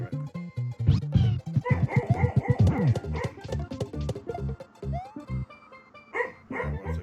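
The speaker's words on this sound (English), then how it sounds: "Dog's dreaming again." A dog barks in its sleep while dreaming, giving muffled, irregular yips, whimpers and soft woofs in short clustered bursts, close by and fairly loud.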